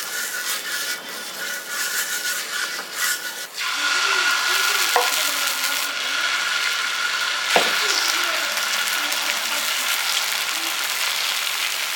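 Onion dosa batter sizzling and frying on a hot dosa griddle, a steady crackling hiss with scraping as the mixture is spread, occasional small clicks of the utensil.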